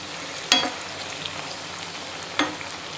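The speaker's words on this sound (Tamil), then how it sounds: "அதுக்காக தான் கொஞ்சம் ஆயிலை கூட வச்சு ஃப்ரை பண்ணிகிட்ருக்கேன்." Potato tikki shallow frying in a pan of oil, a steady close sizzle with two brief louder clatters near the start and middle.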